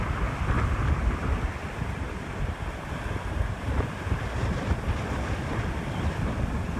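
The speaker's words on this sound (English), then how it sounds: "you're probably not going to be able to hear anything because of the wind" Strong wind of roughly 15 to 20 mph roars across a lakeside bluff on North Manitou Island, a loud continuous rush buffeting the microphone throughout with no speech.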